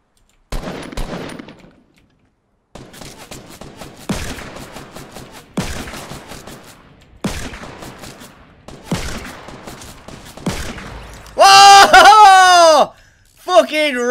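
Gunfire in the video game Fortnite, a series of sharp, loud shotgun blasts spaced a second or two apart, each followed by a brief decay, then a short chaotic burst of effects near the end; a voice talks briefly in between.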